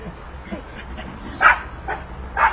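Two puppies yip and bark in short bursts, with three sharp, fairly close barks rising over a low indoor background.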